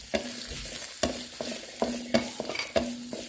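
Chopped onion sautéing and being stirred in a pan for martabak telor filling, a steady sizzle broken by sharp scrapes of the utensil against the pan at irregular intervals, close and clear with no talking.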